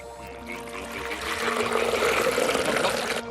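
Hot water being poured to mix with cold water, a steady liquid splash that builds and grows louder over a few seconds, heard close with no talk.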